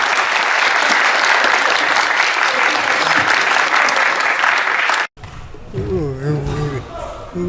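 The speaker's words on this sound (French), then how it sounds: "si vous pouvez les applaudir, s'il vous plaît" An audience at a Paris tournament applauds loudly and continuously for about five seconds, then it cuts off abruptly and a voice speaks alone.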